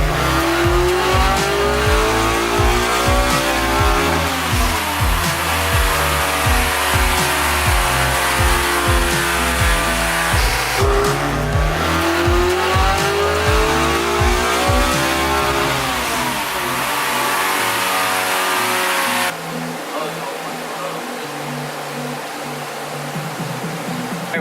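A car engine revs hard through repeated rising pulls on a dyno, an all-motor build making close to 200 horsepower, loud and continuous with sweeping pitch climbs before cutting to a lower drone near the end.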